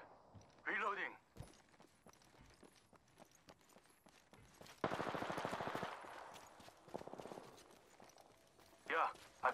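Gunfire rings out in the battle royale shooter Apex Legends, with several separate bursts and rapid volleys spread through the clip, mixed with voices and other in-game noises.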